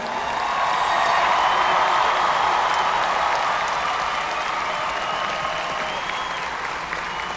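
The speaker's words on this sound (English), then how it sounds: "another round of applause for our new graduates" A large crowd at a university spring commencement ceremony applauds the new graduates, a dense, sustained roar of clapping that fills the hall evenly from start to finish and eases only slightly at the end.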